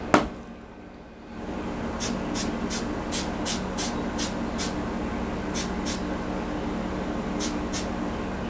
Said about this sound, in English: Let's try some accelerator.